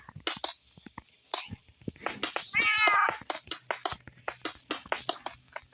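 A cat meows loudly and close by in a series of drawn-out cries, with one long wail in the middle and shorter calls around it, while soft tapping and handling noises run underneath.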